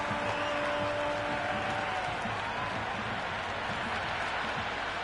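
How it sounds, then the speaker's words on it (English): A stadium crowd in the Cricket 26 video game on PS5 roars and applauds after a boundary four, a dense, steady wash of cheering with no break, with commentary beneath it. "Crowd love that one."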